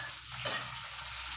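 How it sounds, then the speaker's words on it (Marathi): Green chillies frying in a little oil in a pan, a steady close hiss of sizzling with a soft stir partway through, heard alone without talk. "तर आता आपण मिरच्या थोड्याशा तेलामध्ये फ्राय करून घेऊया."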